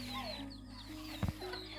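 Chickens clucking in a rural village, a few quiet bird calls with a short louder burst midway, heard nearby and faint over a low steady background hum.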